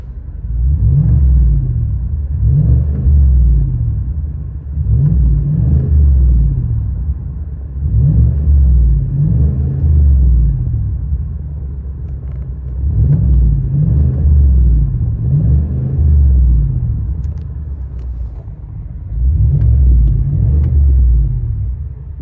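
A 2021 GMC Yukon Denali XL with a 6.2L V8 and muffler delete gives deep, loud exhaust rumble in repeated rev swells, rising and falling roughly every few seconds.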